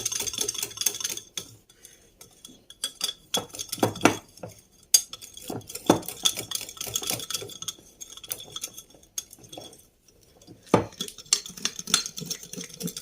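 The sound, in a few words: stirring ingredients in a pot to melt them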